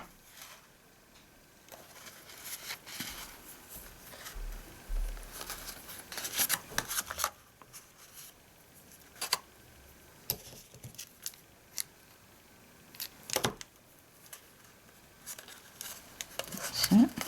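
Scissors snip black solid baker's twine in a few sharp, separate clicks among soft handling rustles at close range, with quiet talking.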